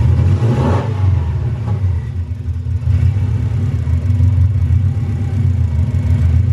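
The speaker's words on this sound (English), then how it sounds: "Let's just give it another rev." A Subaru engine with a misfire revs and rumbles steadily at close range, a loud, continuous throaty drone that rises and falls slightly, with no voices.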